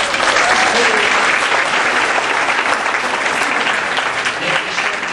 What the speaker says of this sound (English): If you'll stand for a round of applause, we have Bob Ethel and his daughter Nikki.